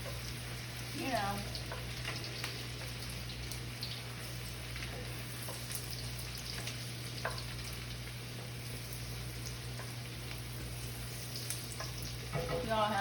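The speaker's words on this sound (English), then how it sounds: "add in my chopped yellow onion, you guys, to the pot. Right on in there with the bacon grease" Chopped yellow onion sizzles steadily in hot bacon grease in a pot, a constant close frying hiss with a few stirring scrapes and a low background hum.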